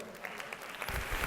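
Audience applause at an education conference talk, a faint, steady patter of clapping from a room of listeners that grows a little denser toward the end.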